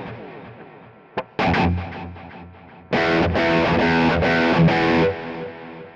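A Kemper Player running a Plexi 50K amp profile with a two-tap delay plays distorted electric guitar. A single plucked note comes first, then chugging chords ring out. Delayed repeats trail behind each strum.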